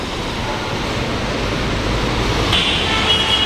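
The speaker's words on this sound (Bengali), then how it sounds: "ট্রেন দিয়ে যাচ্ছে" A steady, loud rushing roar of a Kolkata metro train passing close by on the Sealdah to Sector V line, with a deep low rumble that swells slightly toward the end.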